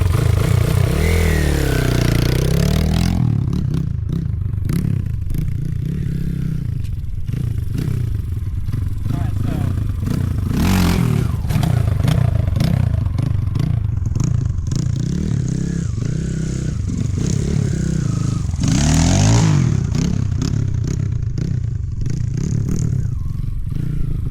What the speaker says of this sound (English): it becomes clutch in, pop up, hit the brake